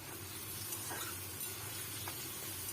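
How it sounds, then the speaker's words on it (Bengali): Potato pieces fry in hot mustard oil in a kadai, making a faint, even sizzle that runs unbroken throughout with no voices. "কড়াইতে সর্ষের তেল গরম করে প্রথমে টুকরো করা আলুগুলো বেশ লাল করে ভেজে নেব।"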